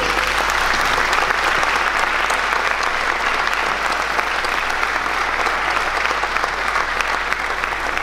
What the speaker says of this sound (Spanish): pido un aplauso para todos